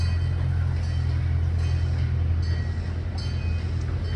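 A steady, dense low rumble of a passing train rolls on evenly throughout, fairly close and with no voices.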